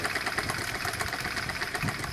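A 1984 Honda Z50R small motorcycle engine idles quietly and steadily with a fast, even putter and no voices.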